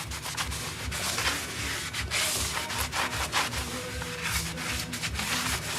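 Brake rotor on a 3rd-gen 4Runner being scrubbed clean with brake parts cleaner, a quick, repetitive rubbing and wiping rasp up close at moderate level, with no talk.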